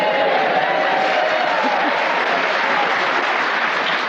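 A warm theatre audience at the refurbished Theatre Royal in Winchester applauds steadily, a dense, loud, continuous wash of many hands clapping throughout.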